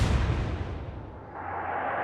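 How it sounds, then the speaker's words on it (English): Naval gunfire and a big explosion in the Atlantic Fleet game, a deep booming blast that fills the whole span and then rolls off into a long, dull rumble. "Big explosion."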